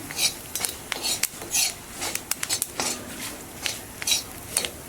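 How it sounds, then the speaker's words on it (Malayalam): Chili powder being stirred into dry mango pickle in a pan, heard as close, irregular scraping and clinking of a utensil against the pan with short sharp strikes spread through the stretch. "ഇനി ഇതെല്ലാം കൂടെ നമ്മൾ നന്നായി യോജിപ്പിച്ച് മിക്സ് ചെയ്തെടുക്കണം."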